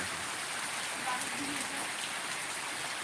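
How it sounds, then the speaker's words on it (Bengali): Heavy rain falls steadily on a village home flooded by a severe downpour, with a broad constant hiss of drops hitting surfaces close by for the whole stretch and no voices. "আমরা ভাবতে পারিনি যে এতটাই বৃষ্টি হয়েছে"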